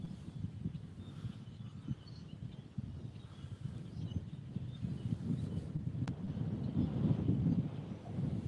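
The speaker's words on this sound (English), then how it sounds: "Sorry about the wind." Low, gusty wind buffets the microphone in a steady rumbling roar that swells slightly toward the end, with no voices present.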